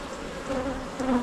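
Honey bees buzz up close during a beehive inspection, a brief dense hum that swells slightly in a couple of pulses.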